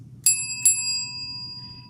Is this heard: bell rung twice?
yes